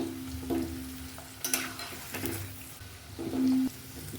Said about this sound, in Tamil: லோ ஃப்ளேமில் வச்சு வறுக்கணுங்க. கலந்துக்கிட்டே இருக்கலாங்க